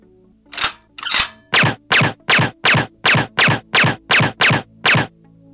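Electronic shooting sound effects from an action figure's toy Glock pistols, a quick series of about twelve buzzy synthetic bang bursts in steady rhythm, loud and close with no talking.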